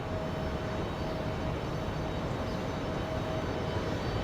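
Airplane taking off from runway 23 left at Raleigh Durham International Airport on a windy day, a broad, steady engine roar that stays loud and even throughout, with no voices.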